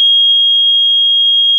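A water dampness alarm sounds a single loud, piercing, unbroken electronic tone at close range, holding steady with no talk over it.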